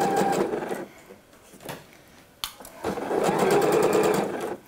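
A domestic sewing machine stitches a dress seam in short bursts, a fast rhythmic whirring hum that stops and restarts several times for back-tacking, close and loud with brief pauses between runs.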